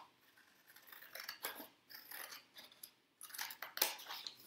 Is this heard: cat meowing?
no